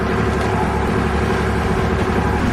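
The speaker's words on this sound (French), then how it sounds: "ambiance intérieure du bateau pendant une navigation moteur" A steady low engine drone fills a sailboat cabin under motor, constant and unbroken, with a muffled hum and no voices.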